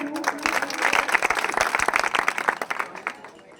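A crowd claps loudly and steadily for a few seconds at a village public meeting in India, the dense applause holding strong before thinning slightly toward the end.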